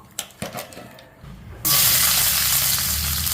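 Stone flower hits hot oil while tempering a mutton and radish gravy, a few soft clatters first, then a sudden loud, steady sizzling hiss.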